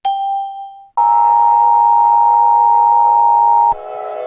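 Electronic alert tones from an EAS emergency broadcast. A short steady tone is followed by a loud, harsh two-tone buzz held for almost three seconds, which cuts off into a quieter tone.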